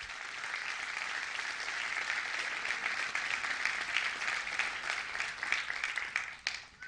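A church congregation applauds with moderately distant, sustained clapping that grows slightly denser midway and then tapers off near the end.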